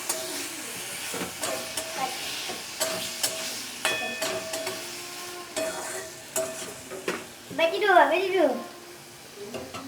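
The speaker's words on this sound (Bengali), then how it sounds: "কষিয়ে নেব। এর সাথে আমি টমেটো কুচি দিয়ে দিলাম।" A spice paste with chopped tomato sautés in a pan: a crackling sizzle and hiss broken by repeated scraping stirs of a spoon, with a voice speaking over it near the end.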